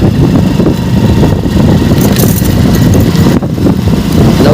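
A motorbike ridden at a steady, moderate pace through Malegaon, its engine droning continuously under constant road and wind rumble, with no voices.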